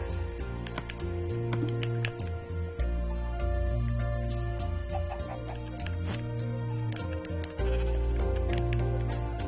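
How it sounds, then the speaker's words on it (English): A sheep bleats in a Minecraft-style block-building survival game, with a few short calls heard over a loud, steady game music track and no talking. "A sheep!"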